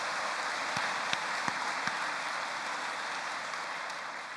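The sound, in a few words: congregation applauding in church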